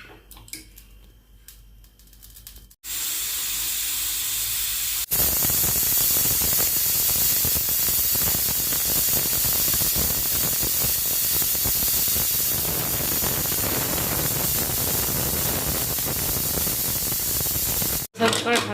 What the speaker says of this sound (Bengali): প্রেসার কুকারে ঢেলে দেবো। এবার 8টা সিটি দিয়ে দেবো।